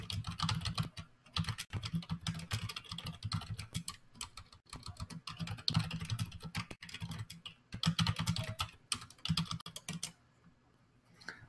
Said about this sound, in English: So I'll type that in now using a text area.